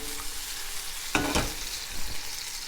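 A quick sauté in a hot pan for an omelette Margherita with tomato concasse: a constant bright sizzle with a couple of sharp stirring or tossing bursts in the middle, close and fairly loud, with no talking.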